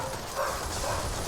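A dog barks a couple of times indoors, faint and somewhat muffled beneath a steady background hum.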